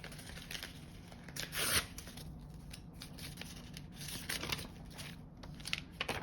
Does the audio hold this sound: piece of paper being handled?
yes